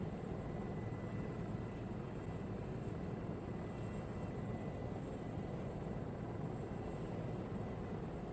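Aircraft taking off in Arma 3, a steady broadband engine roar and rushing noise held at constant level for several seconds, with no talk.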